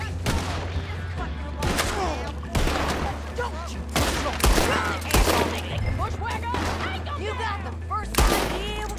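Rapid gunfire bursts from a shootout in the Red Dead Redemption 2 video game, loud and repeated in dense volleys across the whole stretch, with a steady low hum beneath.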